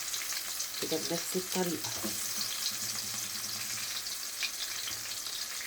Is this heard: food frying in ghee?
yes